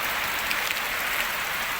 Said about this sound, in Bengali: আমরা ফাঁসে গেছি বৃষ্টির মধ্যে